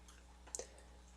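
A single computer mouse click while operating SolidWorks CAD software, a brief quiet double tick standing alone against faint background hiss.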